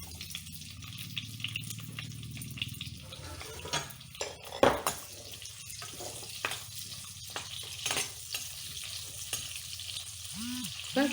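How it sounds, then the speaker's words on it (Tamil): Onions fry in hot oil in a clay pot for a fish curry, giving a soft, steady sizzle. Occasional clinks of a utensil stirring against the pot break through, and a few quiet words are spoken nearby. "எண்ணெய் சூடானதும் வெங்காயம் போட்டுக்கலாம்."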